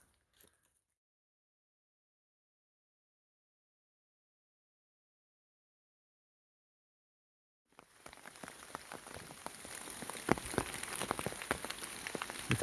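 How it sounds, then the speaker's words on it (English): Heavy rain pours on a foggy day along the Loyalsock Trail's boulder rock garden. After about eight seconds of near silence, a steady patter of drops on a surface comes in and keeps going at moderate volume, with no talk. "It's pouring"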